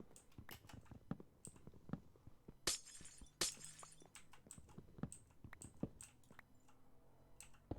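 Glass blocks shattering in Minecraft, two sharp bright crashes close together mid-clip amid scattered clicks and small block-placing taps, fairly faint overall.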